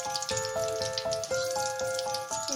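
Fish fries in hot oil as it is turned over to brown the other side, a steady crackling sizzle with a sustained tonal hum running beneath it and a few soft shifts where the pieces are flipped.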